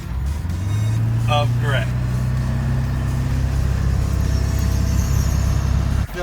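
Car driving along the road, a steady loud low engine drone and road rumble inside the cabin, with someone talking over it.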